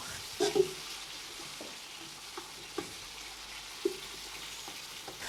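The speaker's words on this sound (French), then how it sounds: "je vais prendre une casserole. Je vais mettre mon beurre à fond dedans." Soft, steady sizzling of butter in a saucepan with a few light clinks and taps of a utensil; quiet and close, no voices.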